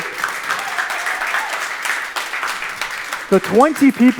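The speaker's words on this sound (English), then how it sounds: "So quick round of applause for the 20 people" Audience applause for the technical team at the Mastercard grand final at Latitude59, a broad wash of clapping that fades while a voice starts speaking near the end.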